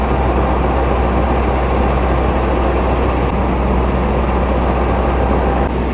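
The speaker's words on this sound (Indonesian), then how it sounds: "ini dia untuk lokomotif yang berdinas untuk mengelar rangkaian kereta api Taksakan menggunakan cc 206 1505" A CC 206 diesel locomotive hauling the Taksaka luxury sleeper train produces a loud, constant rumbling drone with a steady roar of rolling noise that does not let up.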